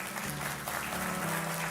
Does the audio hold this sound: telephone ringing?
no